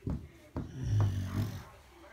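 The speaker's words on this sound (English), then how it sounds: "that noise in the background is my dog snoring on the floor" A dog snores while lying on the floor indoors, giving a few low, rough breathing snorts spread over about two seconds, quiet and close, with faint voice-like sounds mixed in.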